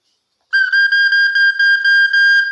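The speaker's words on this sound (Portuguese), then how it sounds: "através disso aqui que a gente chama de boquilha é como se fosse um apitinho" A bright, steady whistling tone comes from the mouthpiece of a recorder, played alone as a single held pitch with slight pulsing breaks in the airflow.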